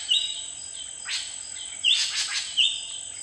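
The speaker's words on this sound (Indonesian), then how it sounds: "Sri Gunting Batu, kicauannya keras dan lantang, namun mengalun dengan serangkaian cicitan yang cemerlang." Drongo (Sri Gunting Batu) song in the wild: a few loud, bright whistled notes and a brief burst of chattering chirps, spaced apart over a soft insect hum.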